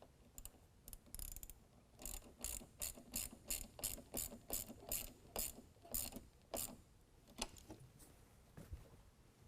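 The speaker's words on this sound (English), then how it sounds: "now we can go ahead and reconnect the negative battery terminal and tighten it down with a 10mm" A ratchet is tightening the 10mm negative battery terminal on a 2022 Chevy Silverado 1500 6.2L V8. Its crisp, rapid clicks come in repeated short bursts at a quiet level, with no voices.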